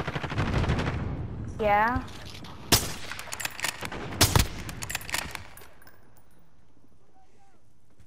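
Gunfire in a shooter video game comes in loud rapid bursts and single cracks, mixed with other game effects and a brief voice, then fades to quiet near the end.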